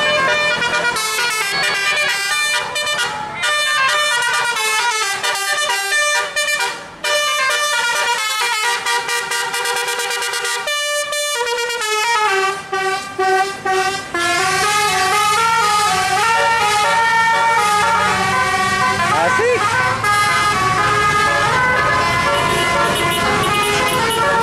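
Musical Basuri horns on buses rounding a sharp bend in the town of Banjar play long, tuneful melodic phrases that stay loud and continuous throughout, with overlapping tones and a steady roar of traffic underneath.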